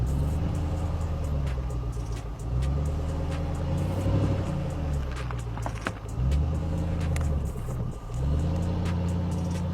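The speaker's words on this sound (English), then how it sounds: "The Range Rover stays stable even at the last obstacle." A Range Rover SUV crawls over an off-road obstacle course, its engine droning low and steady with rises and dips in revs, close and loud, alongside faint clunks from the suspension and terrain.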